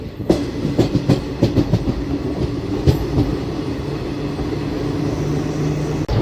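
Steady rumbling roll of the Palnadu Express on the tracks, heard from inside a 3AC coach, with clickety-clack wheel beats early on and a faint tone running through, continuous and fairly loud with no voices.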